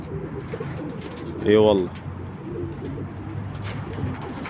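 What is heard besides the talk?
pigeons cooing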